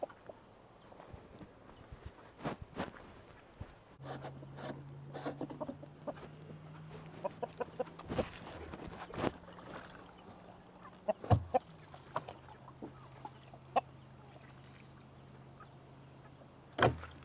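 Chickens cluck in their coop amid scattered clatter and footsteps. A steady low hum runs beneath from about four seconds on. The clucks are soft and intermittent, with no talking.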